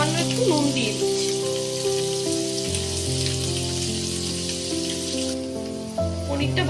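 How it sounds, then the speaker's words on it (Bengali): Paneer sizzling gently in a pan of hot oil, a continuous crackle up close with background music running throughout. "পনিরটা ভাজা হয়ে গেছে"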